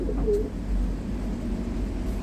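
A pigeon's soft coo stands out briefly against a steady low hum, with no talking.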